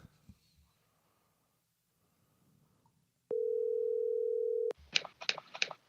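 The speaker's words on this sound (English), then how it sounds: "Oh, good. It's ringing." A single long ringback tone on an outgoing phone call, steady and clear for over a second, with faint breathing and small noises before and brief ringing-like bursts after.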